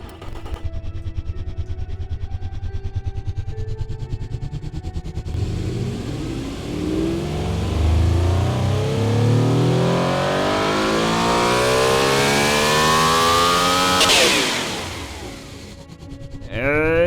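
A simulated 830 hp 5.8 litre supercar engine in the game Automation revs up through a long rising sweep, climbing steadily in pitch before dropping back and rising again, loud and continuous with no talking.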